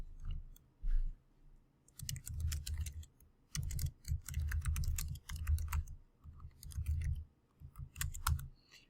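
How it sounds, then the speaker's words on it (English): Close, quiet typing on a computer keyboard comes in uneven bursts of clicks. Short pauses break up the runs of keystrokes. "now I just have to type my text out"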